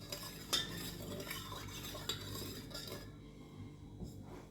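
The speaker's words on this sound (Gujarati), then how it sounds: "તો હવે આપણે આ મસાલા આમાં ઉમેરી દઈએ છીએ અને મિક્સ કરીએ છીએ." Spoon scraping and clinking against a glass or bowl as masala powders, black salt and salt are stirred into lemon water, a steady close rhythm of stirring strokes with no voices.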